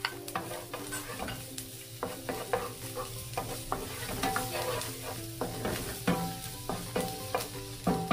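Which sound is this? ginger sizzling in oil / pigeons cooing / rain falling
ginger sizzling in oil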